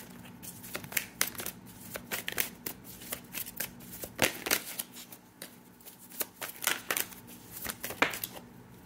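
Tarot cards shuffled and handled during a reading, giving repeated soft riffling and crisp card flicks in short bursts, close and fairly quiet, with no talking.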